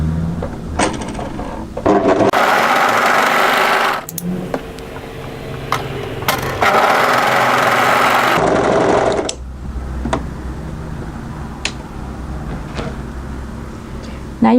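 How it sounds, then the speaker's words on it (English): An overlocker runs in two loud bursts while the short ends of folded fabric cuff pieces are serged, with quieter handling sounds and light clatter between and after the runs. "Fold them right sides together and overlock the short ends."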